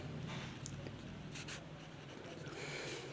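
Pen on paper scratches softly and close while a maths solution is written out, a faint continuous scribble with a few quick strokes. Low room hum sits beneath it.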